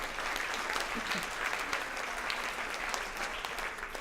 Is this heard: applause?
yes